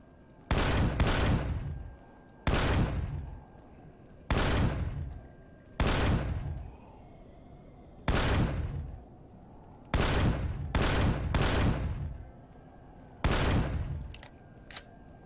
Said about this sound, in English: I've got plenty of ammo in my raid base, so the minigun won't stop firing ever